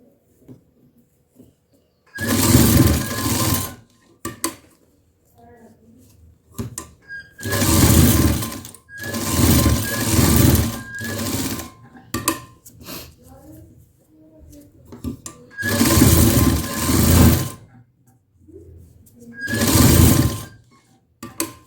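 A sewing machine stitches a seam on fabric while a neckline is being made, running in several loud, steady bursts of a few seconds each with quiet pauses between them, and nothing else is heard over it.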